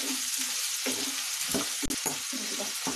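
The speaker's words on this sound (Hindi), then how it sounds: "और इसे मैं अच्छे से भून लूंगी प्याज को।" Chopped onions fry in a pan for paneer angara with a steady, loud sizzle close by, broken by a few scraping stirs of the spoon, and no one speaking.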